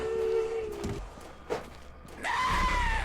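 Drawn-out tonal screams from the Slendrina horror video game sound twice, a lower wail that cuts off, then a higher shriek after a short thud, fairly close and loud against a low background.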